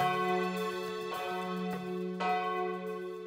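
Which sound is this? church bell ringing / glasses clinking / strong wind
church bell ringing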